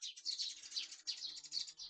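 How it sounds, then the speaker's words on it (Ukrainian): Sparrows chirp in a busy flock nearby, a dense run of bright, overlapping tweets that keeps going with only brief dips and no speech. "Щось за атака горобчача."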